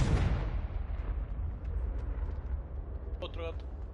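Casting a Confringo blasting spell in Hogwarts Legacy sets off a loud, rumbling explosion that starts at full force and slowly decays into a deep roar, with a brief bright magical chime near the end.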